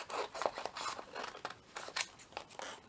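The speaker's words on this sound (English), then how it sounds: "we will just snip this off" Scissors snip paper while a shabby vintage journal page is trimmed, giving a run of close, crisp cuts with light rustling of the sheet in between.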